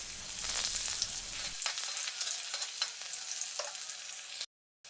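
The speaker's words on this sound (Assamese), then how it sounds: "এয়া তেলখিনি গৰম হোৱাৰ পিছত এতিয়া মই কাটি থোৱা পিঁয়াজখিনি দি দিছোঁ।" Chopped onions land in hot oil for an Assamese fish curry and set off a loud, steady sizzle and crackle with scattered pops, which ends abruptly near the close.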